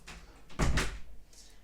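A door pushed open by a cat indoors, giving one brief, fairly loud knock-and-swing thump with a short rattle, followed by a faint scrape.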